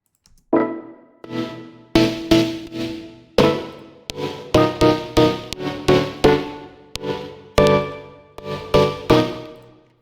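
A trigger-gated sample stutters in short, sharp bursts that decay quickly, forming an uneven, choppy rhythm of about a dozen hits with brief silences between them.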